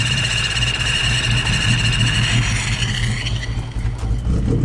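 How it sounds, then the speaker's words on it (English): A car engine idles roughly and unevenly while Seafoam cleaner is poured into it, a steady low rumble close by that sags and wavers as if about to stall, then settles again. "I'm pouring it to the point where the car wants to cut off."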